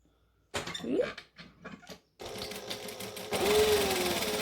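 A sewing machine stitches a 3/8 seam on Alpine Shorts, opening with short start-stop bursts of needle clatter, then a longer continuous run of rapid stitching up close.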